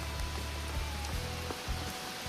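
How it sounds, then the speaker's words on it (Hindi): Heavy rain falls on a steep hillside trail near Santala Devi temple in Dehradun, Uttarakhand, as a faint, steady, even hiss with no voices. "और अभी काफी तेज बारिश लगी है,"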